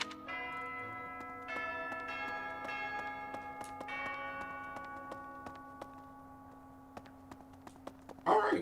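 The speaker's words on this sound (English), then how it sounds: "Alright, well that's the bell." Bell chimes from the video game Fire Emblem Three Houses, struck several times in a slow sequence with long ringing overtones that fade out, then a brief burst of other game sound at the end.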